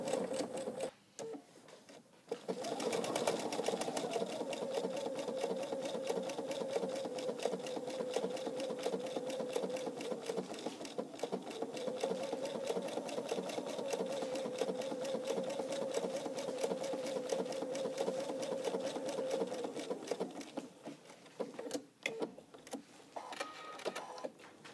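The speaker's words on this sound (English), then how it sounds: "So every time the needle stops, the presser foot lifts up and I am able to finish the curve." A sewing machine stitches layers of starched fabric for a quick baby quilt, running in a steady, rapid mechanical whir for about twenty seconds, pausing briefly once, then stopping with a few scattered clicks as the needle halts.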